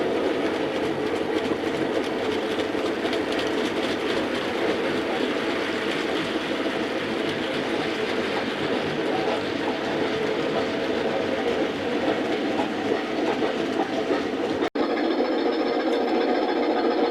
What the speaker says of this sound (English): track relaying train on its way back to the depot.